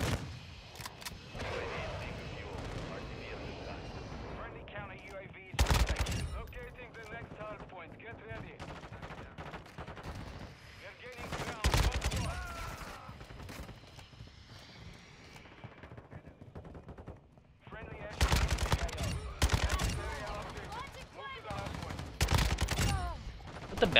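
Kastov 762 rifle gunfire in Call of Duty MW2: repeated loud bursts of automatic fire and scattered shots in several clusters over the match, with game sounds and a person talking between them.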